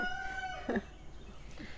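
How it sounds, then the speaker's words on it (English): A rooster crows in the distance, a drawn-out call fading in and out over a quiet outdoor background, with faint clucking around it. "These roosters, man, they won't stop."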